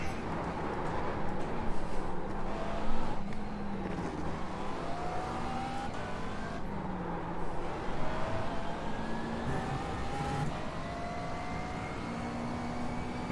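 A McLaren race car lapping in a racing game, its engine droning steadily with rising and falling pitch through gear changes, continuous and moderately loud with no talk.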